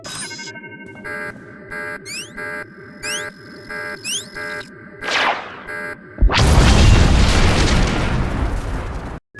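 The Deathmark laser exploding in Star Wars: The Old Republic, a Jedi Knight mission on Alderaan: warbling sci-fi beeps and sweeping tones build for several seconds, then give way to a loud, sustained roaring blast.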